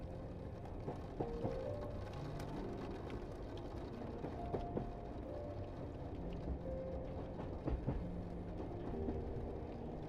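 A train pulls out of Rome at night, heard from on board as a steady low rumble of rolling wheels with faint intermittent squeals and clanks, continuous throughout.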